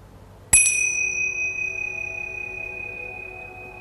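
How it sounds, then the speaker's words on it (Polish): A single bright Tibetan bell strike rings out after a moment of quiet, its pure high tone sustaining and slowly fading over several seconds. "Dzwonki tybetańskie."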